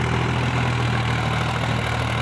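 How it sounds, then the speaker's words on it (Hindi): A Sonalika DI 50 tractor runs with a steady, loud diesel drone and low constant hum, pulling a loaded trolley up a climb, close by and unbroken throughout. "अच्छा साउंड है ट्रैक्टर का"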